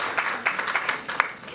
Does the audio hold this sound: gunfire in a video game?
no